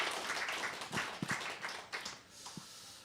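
Warm applause from a church congregation after a pastor's invitation, scattered soft clapping that swells briefly and then thins out, heard at moderate distance in a large worship hall.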